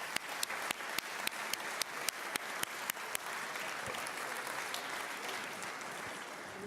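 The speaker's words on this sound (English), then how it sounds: "let's give a great round of applause to our panel today." Round of applause for a panel at the Munich Security Conference, a large hall audience clapping in a steady wash that fades slightly, with sharp camera shutter clicks firing in a quick series over the first few seconds.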